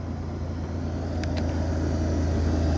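An abandoned Jeep's engine runs steadily up close, a low continuous rumble holding even throughout with a couple of brief higher clicks partway through.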